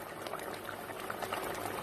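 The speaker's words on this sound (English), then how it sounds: "this fish, which is called fish rasala, it is still boiling" Fish rasala curry boils in a covered pot, a faint, steady bubbling and popping simmer at low level with no voices over it.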